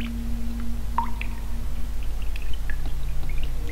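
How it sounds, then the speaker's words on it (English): In the video game Rakuen, water pours onto a plant with light trickling and dripping sounds over a steady low hum, with soft clicks scattered throughout. "Water the plant? Yes. Looks like the plant is still thirsty."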